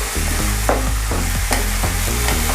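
Pineapple halwa with cashews stirred in a pan: a loud, close, continuous thick sizzle with repeated rhythmic scraping strokes of the spoon, no voices.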